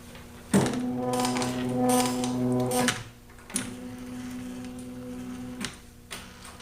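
A homemade claw machine's mechanism running, two long whirring motor buzzes with sharp clicks at their starts and stops, close and clear with no talk.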